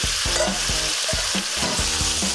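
Loud sizzling of beef frying in hot oil for chow mein, with clanks and scrapes of a utensil stirring the pan, close up.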